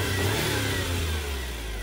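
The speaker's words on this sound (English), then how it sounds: "Rev it up a little bit." A 1993 Suzuki Cappuccino's small engine revs up close by, a short rising roar that settles back toward idle, with no talk over it.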